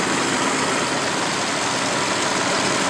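A 3.9-litre car engine runs at a steady idle, a dense continuous rumble heard close and loud throughout with no talking.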